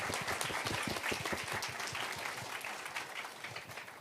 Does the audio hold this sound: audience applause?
yes